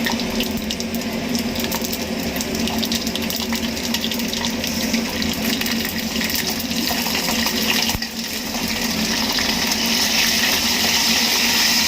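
Mustard seeds and garlic cloves sizzling in hot oil for a lemon pickle: a loud, continuous hissing fry that holds steady throughout, close and with no voices.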